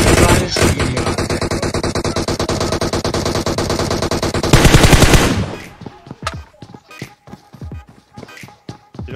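Rapid automatic gunfire in a shooter video game fires in a loud continuous burst for about five seconds, then gives way to scattered single shots and clicks.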